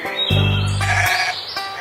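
Sheep in the farming video game Farm Craft 2 let out one long, loud bleat near the start, followed by shorter, softer game chimes and effects, with no talking.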